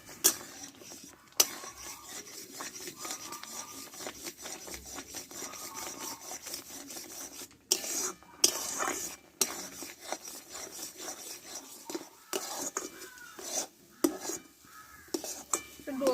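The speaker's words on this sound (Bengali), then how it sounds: "আর আস্তে আস্তে এইভাবে নাড়তে থাকবো" Semolina being stirred slowly in a pan: quiet, close scraping and rubbing strokes in an irregular rhythm, with brief pauses between movements.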